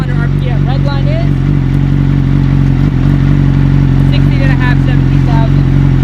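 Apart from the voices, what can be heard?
Yamaha R6 motorcycle revving with M4 exhaust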